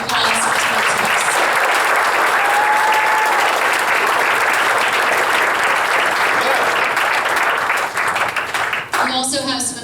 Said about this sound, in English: So let's give a great round of applause for tonight's hosts.